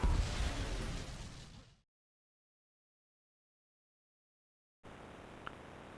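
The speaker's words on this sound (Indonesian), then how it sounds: "mobil tersebut sudah terpasang bom dan terjadilah ledakan" A car bomb explodes in a loud, dense blast of roaring noise that fades out over a couple of seconds, followed by silence and then a low ambient hiss with a faint tick.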